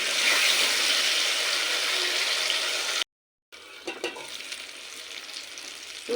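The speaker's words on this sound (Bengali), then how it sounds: "মশলাটাও সর্ষে যেহেতু রয়েছে খুব বেশি কষাবো না তো মিনিট দিয়ে কষিয়ে নেব" Spice paste of mustard, poppy seeds and chillies frying in a pan, a steady dense sizzle that cuts out briefly, then returns quieter with a few scraping stirs.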